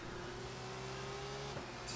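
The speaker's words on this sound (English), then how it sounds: "wastegate popping off there in the background." V6 turbo race car engine in a racing simulator at Silverstone, a steady droning engine tone with a sustained pitch, briefly shifting near the end, heard alone at moderate level.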